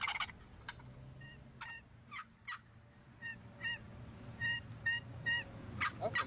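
A Roost'em turkey call worked by hand imitates a gobbling turkey, producing a string of sharp, rapid, rattling gobble bursts in short irregular groups, fairly faint and close against a low background hum.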